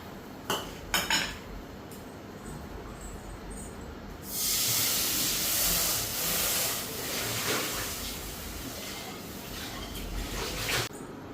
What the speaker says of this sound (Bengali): তো এখানে তেলটা দিয়া দিলাম, মাছটা ভাজা বসানো